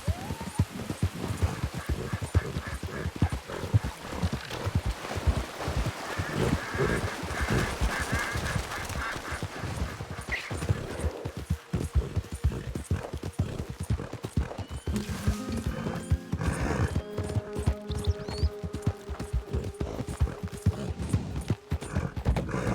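Horse hooves clip-clop steadily and rapidly throughout in Red Dead Redemption, a continuous galloping rhythm layered with busy game sound effects and background music.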